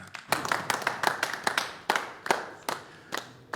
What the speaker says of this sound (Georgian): აპლოდისმენტებით გავაცილოთ ვახტანგი